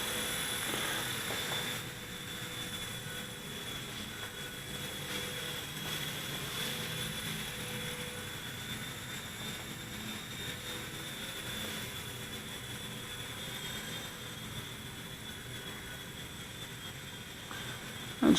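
A Silverlit Metal Copter toy helicopter in flight indoors, a steady high whirring rotor and motor drone that holds at an even level throughout.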